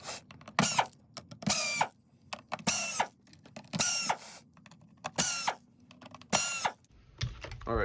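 A screwdriver backs T10 screws out of a Dyson DC41 vacuum filter cover, producing repeated ratcheting, rasping bursts about once a second, close and isolated, ending with a clattering knock.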